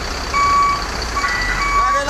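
ALS bus 253 maneuvers to leave Yogyakarta, its reversing alarm sounding in intermittent electronic beeps over the low idle of the engine, with a voice speaking nearby.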